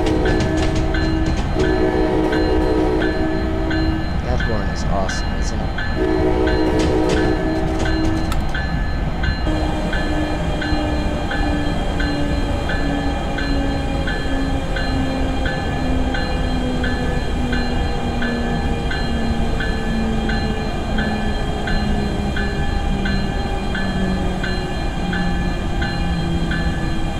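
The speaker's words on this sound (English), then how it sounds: "as we approach 5 miles an hour, you'll hear the traction motor stop making that noise." Diesel locomotive traction motor in Train Simulator 2018, an NJCL scenario, slowing under dynamic braking. A steady whine falls gradually in pitch over a constant rail rumble, with horn-like tones early on and no talk.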